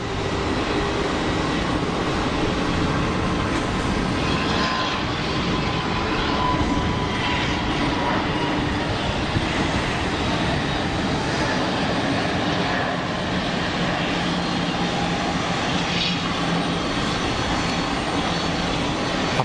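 A Pegasus Airbus A320neo jet bound for Istanbul rolls for takeoff on runway 04 at Geneva Airport, producing a continuous, fairly loud engine roar that stays steady throughout, without any speech.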